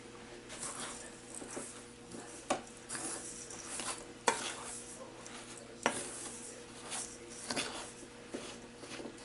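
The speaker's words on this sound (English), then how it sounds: "So then we're just going to mix this together." Oats, canola oil, cinnamon and salt being stirred together into a crumble topping for a strawberry rhubarb crisp, with soft scraping and scattered clinks of a utensil against the bowl, fairly quiet and close, with no talking.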